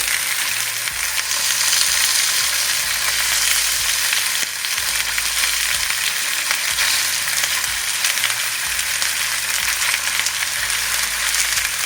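Steady, loud sizzling of pork ribs frying in a pan, continuous crackle throughout with no talking.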